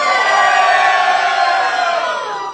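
A large live crowd at a college football show roars in support of Georgia, a loud, sustained mass of cheering, whoops and yells that holds steady for a couple of seconds before easing slightly.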